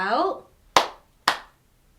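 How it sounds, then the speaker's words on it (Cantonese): Two sharp hand claps spaced about half a second apart, following a short sung or spoken phrase in a lively children's Cantonese action song, each clap ringing briefly before silence. "拍手"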